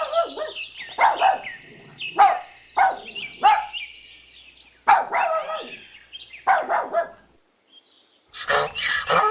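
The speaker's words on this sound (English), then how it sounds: "Puppy." A puppy barks in a series of sharp, high yips, several in quick succession with short pauses between them, loud and close, with a final burst of barking at the end.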